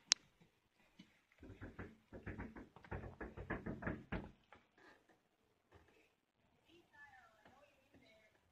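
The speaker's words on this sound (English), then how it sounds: "he's knocking now" Knocking on a door, a fast series of sharp raps in two bursts, fairly close, followed by quieter sounds and brief faint speech.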